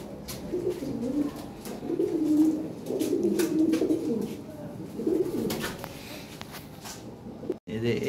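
Lahore pigeons coo in a low, rolling burble, repeated phrases close by, alongside a few faint chirps and soft handling clicks, with a brief dropout near the end.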